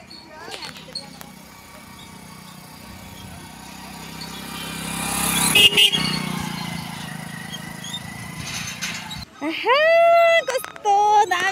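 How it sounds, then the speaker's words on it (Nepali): A motorcycle passes close by near a river bridge, its engine noise swelling to a peak midway and fading away, with people talking over the end. "बाइक जाँदै यो बाइक"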